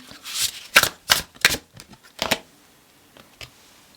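Tarot cards are shuffled in a handful of crisp riffling bursts, close and fairly quiet, with brief gaps between each flurry and a softer final shuffle trailing off.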